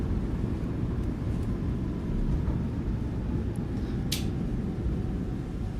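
Airliner thrust reversers roaring after touchdown in a flight simulator, a steady loud broadband rumble that holds at full strength throughout with no pauses or talk.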